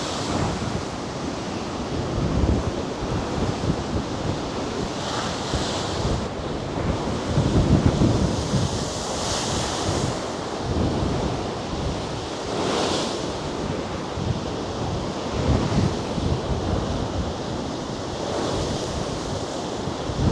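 Heavy sea waves crash and surge against the sea defence wall at Blackpool in repeated booming swells, with a constant roar of wind and spray between the impacts.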